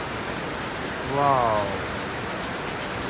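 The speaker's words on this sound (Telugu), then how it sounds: "ఫుల్ వర్షం పడుతుంది" Heavy rain falling at Om Beach in Gokarna, a steady, even hiss of downpour that fills the whole stretch, with one brief excited voice exclaiming partway through.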